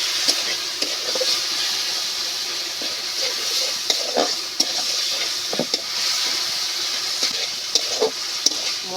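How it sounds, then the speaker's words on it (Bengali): A spice paste masala is sautéed in a pan, with a continuous sizzle and frequent stirring scrapes and knocks at an uneven pace, close and fairly loud, no talking. "ঢাকনাটা তুলে নিয়ে আমি মশলাটা ভালো মতো করে কষিয়ে নেব।"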